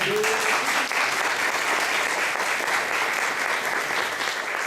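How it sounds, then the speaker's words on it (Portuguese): Round of applause from an audience at a debate on audio-described film, steady and full throughout, with faint crowd murmur beneath. "Queria pedir que todo mundo batesse uma salva de palmas para essa mulher aqui."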